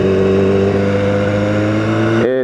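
A BMW S1000R motorcycle in road mode holds a loud, steady rev with layered engine harmonics, then cuts off sharply near the end into a brief falling rattle.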